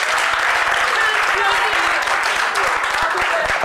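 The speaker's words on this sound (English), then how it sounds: "a round of applause again for our speaker" Steady, dense applause from an audience at a political party's weekly press briefing, continuous and fairly loud throughout with many hands clapping in an indoor room.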